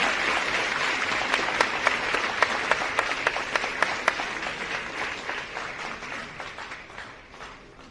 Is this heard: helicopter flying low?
no